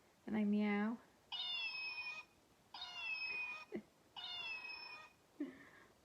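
Little tartan toy cats give four electronic meows, one long and the rest shorter, with brief pauses between them, close and fairly loud.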